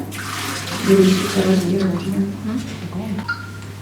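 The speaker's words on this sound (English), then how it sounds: "So I'm just going to add just a little bit of water." Tap water runs briefly into cupped hands to dampen them before a facial cleansing gel is applied, a soft close splashing and trickling with no voice present.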